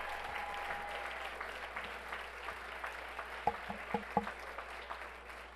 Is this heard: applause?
yes